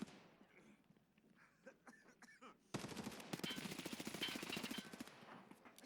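Video game gunfire crackles in a rapid automatic burst of about two seconds, loud and dense after a stretch of quieter scattered clicks and background noise.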